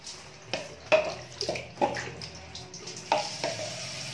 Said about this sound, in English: So here I have a pitcher of water. Let me put some and rinse properly.